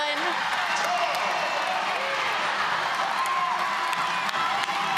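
A gymnastics crowd cheers and applauds after a stuck dismount at a college meet, a dense, continuous roar with scattered whoops and whistles rising above it. It sounds loud and sustained throughout, as if heard from within the arena.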